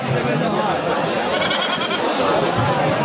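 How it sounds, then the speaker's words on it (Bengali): Sheep, including rams, bleat repeatedly amid a noisy crowd of voices chattering at Tebaria livestock market in Natore, with animal cries rising over the steady din. "ভেড়ার পাঠা"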